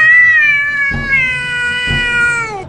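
A cat gives a single long, loud, drawn-out meow close by, with a steady wailing pitch that lasts nearly three seconds.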